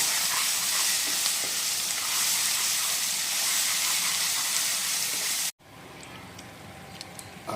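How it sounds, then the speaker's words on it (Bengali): Masala with green chilli paste frying in oil for chicken curry, a loud close sizzle for about five seconds that cuts off sharply, leaving quieter crackles and faint clinks. "ভালো করে এবার ভেজে নেবো"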